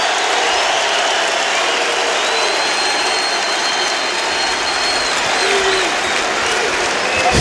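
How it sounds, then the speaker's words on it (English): A large crowd roars and cheers continuously at a standing-room-only basketball game in Chicago's United Center, a dense wash of noise filling the arena, steady and loud throughout. "Listen to the crowd, folks."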